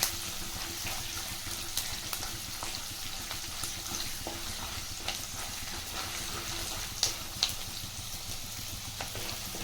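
Green and dried red chillies with peanuts frying in hot oil in a pan for chivda mandakki, a steady soft sizzle with faint crackles and a few light clicks, no talking.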